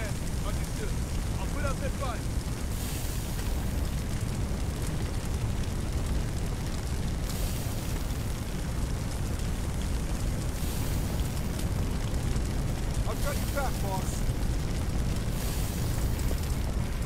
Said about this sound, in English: This is a lot of fire.